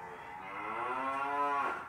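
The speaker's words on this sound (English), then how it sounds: "That was a cow." A single cow moos, one long, rising, drawn-out call heard clearly and alone at moderate distance.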